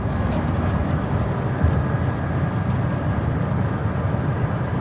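A farm tractor drives past, giving a steady low engine rumble and mechanical drone throughout, fairly loud and close, with no speech over it.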